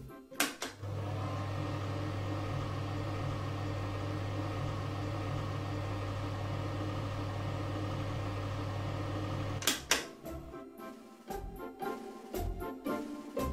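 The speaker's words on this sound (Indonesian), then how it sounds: "Dan suara kipas angin." An electric fan's steady mechanical whir with a low hum drones on for several seconds, then stops, followed by a few clattering knocks and handling sounds.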